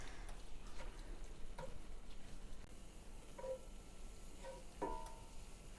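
Hamburger meat frying in a pan makes a quiet, continuous sizzle and crackle, with a few light scrapes and taps near the end.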